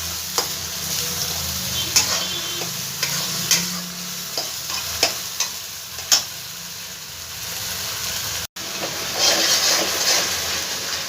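Spice paste frying and being stirred in a pan for green banana kofta curry, a steady close sizzle and hiss broken by periodic scraping stirs, with a brief dropout near the end.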